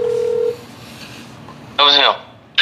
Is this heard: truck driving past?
no